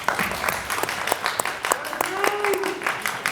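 Graduating high school students at a mid-year graduation ceremony give a round of applause to their families, a steady crowd clapping with scattered louder claps. A faint voice can be heard underneath.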